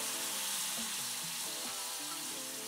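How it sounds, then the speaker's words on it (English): Kimchi fried rice with spam and onions sizzles steadily in a single frying pan, a close, continuous frying hiss with faint stirring and no voices. "you really wanna incorporate the rice into the mixture of the kimchi, onions, and spam"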